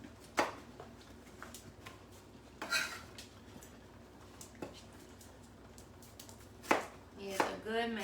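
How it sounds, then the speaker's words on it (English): A knife slicing onion on a board, a few scattered sharp cuts and taps spread out rather than a steady rhythm, close and moderately loud, with faint background noise between them. "I am just slicing up some onion here"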